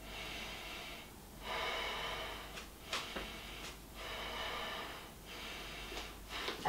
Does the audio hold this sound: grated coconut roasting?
no